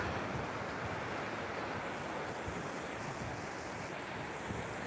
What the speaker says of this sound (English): Check the water out, guys. It is so beautiful. Surf's up.